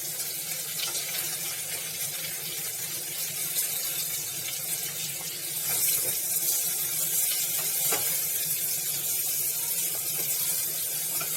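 Okra, stuffed lady fingers, sizzling as they fry in a pan with browned garlic, a steady hissing crackle that carries on throughout and grows slightly louder partway through.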